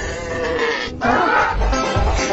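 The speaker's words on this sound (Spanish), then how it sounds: "¡La oveja!" A sheep bleats loudly and close by in two wavering calls, one right after the other, with no talking.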